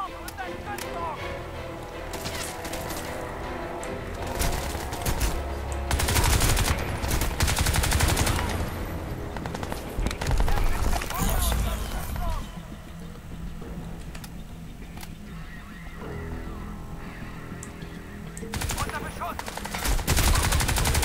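Gunfire from the video game Crysis 2 comes in repeated automatic bursts and single shots amid engine noise and game effects, with someone talking in German over the action.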